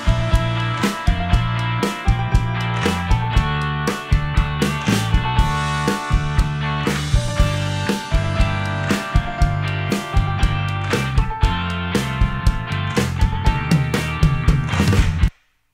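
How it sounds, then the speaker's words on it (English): Layered group handclaps built from single claps with FabFilter Timeless 3 delay, repeating in a steady driving rhythm over a full, loud music bed for about fifteen seconds before stopping abruptly. "this is how to get quick groups of hand claps from a single performance"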